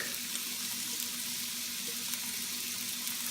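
Garlic frying in a pan for Japanese fried rice, a steady bright sizzle with constant hiss and a faint hum underneath, no voices.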